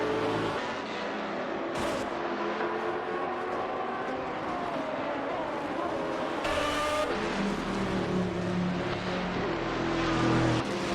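Race cars lapping Interlagos in a GTR racing video game, engines whining and shifting pitch as cars pass close, with brief tire squeals over a dense, steady roar.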